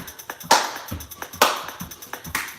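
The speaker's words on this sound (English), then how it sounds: "I'm clapping for you right here" A fitness instructor claps her hands during a live sculpt workout, sharp claps landing in a regular rhythm with three louder ones standing out, close and clear with no talking.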